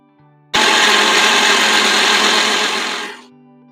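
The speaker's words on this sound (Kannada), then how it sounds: "ಮಸಾಲೆ ಪದಾರ್ಥ ಎಲ್ಲ ನೀಟಾಗಿ ನುಣ್ಣಗೆ ರುಬ್ಬಬೇಕಾಗುತ್ತೆ" A mixer grinder whirs loudly as it finely grinds masala spices for vegetable pulao, starting abruptly, running in a steady harsh whine for about two and a half seconds, then winding down and stopping.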